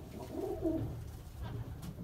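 Blue Mardin pigeons coo in a steady, throaty murmur close by, low rolling calls overlapping with no clear breaks across the short stretch.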